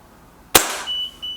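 A single sharp shot from a Beeman 1357 air pistol, loud and close, followed by a brief ringing tone and quiet.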